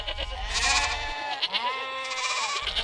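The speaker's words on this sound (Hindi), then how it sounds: "एक कसाई 20 से 25 बकरों को अपने साथ लेकर वहां से गुजर रहा था" A herd of goats bleats in a few overlapping, wavering cries, close and moderately loud, with a low rumble underneath at the start and end.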